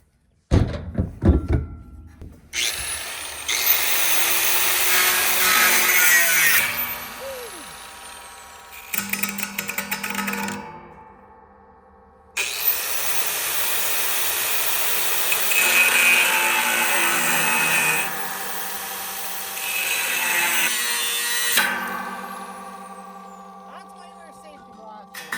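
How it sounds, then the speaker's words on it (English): Grinding wheel on a power tool cutting steel truss parts for a shipping container building, loud harsh bursts of several seconds each separated by pauses, with brief talking between cuts. "Switch to the grinding wheel."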